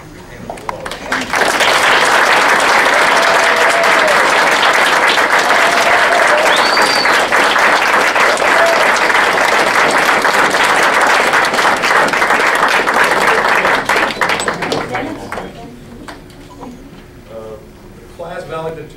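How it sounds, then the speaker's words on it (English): At a May 2012 EMS class graduation ceremony in Columbia, Maryland, the audience gives the standing graduates a loud, sustained ovation that swells quickly, holds for about twelve seconds, then fades out to quieter room sound and faint voices. "give them one collective hand of applause"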